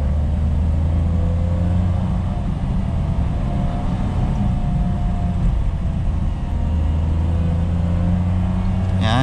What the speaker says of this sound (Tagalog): O yun, naririnig nyo yung engine.